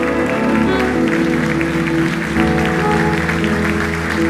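A church congregation at a celebration service applauds continuously and loudly, a dense wash of clapping that holds steady throughout over a sustained musical backing.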